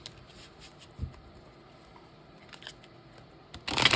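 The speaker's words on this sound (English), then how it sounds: "I'm going to pull a couple more tarot cards." Tarot cards being pulled from a deck and handled, giving a few soft crisp snaps and rustles up close, ending in a louder burst of shuffling.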